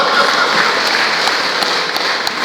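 A church congregation at a Sunday morning Pentecostal service in Pontianak claps in steady, dense applause that carries at an even level throughout, with no talk over it.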